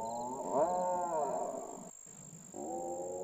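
A Carnotaurus mating-season call in a paleo animation set on rainy-season floodplains in La Colonia, Argentina: a strange, moderately loud, wavering howl-like roar, broken by a short pause and then resuming, over a faint steady high hum.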